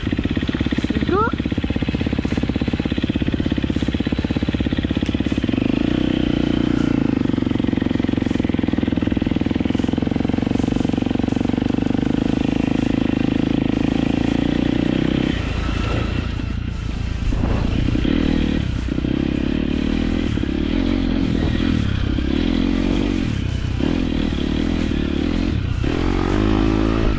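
Motocross bike riding through slippery mud on a greasy track, engine droning loudly and steadily close by, then revving and sputtering unevenly with splattering and clattering as the rider works through the mud in the second half.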